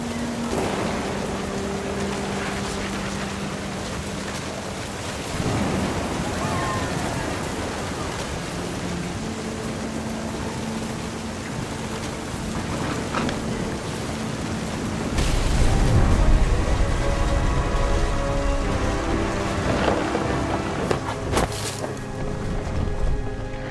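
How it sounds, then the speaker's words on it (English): Heavy rain pours steadily through a thunderstorm in What Remains of Edith Finch, a dense hiss that swells louder with a deep rumble of thunder about two-thirds through, while faint tonal music lingers underneath. "The thunder sounded much too close and full of angry power"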